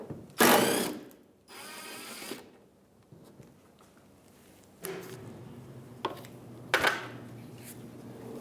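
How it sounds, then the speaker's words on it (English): Ratchet with a 10mm socket loosening a bolt that holds the bumper to the fender on a 2015-2016 Hyundai Sonata: quiet, close clicking and rasping in several short bursts with gaps between them. "we're going to use a 10mm socket and take that bolt out"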